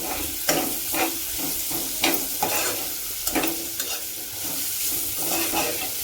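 Vegetables sauté in oil in a pan over high heat, making a continuous loud sizzle broken by repeated scraping and stirring clatter.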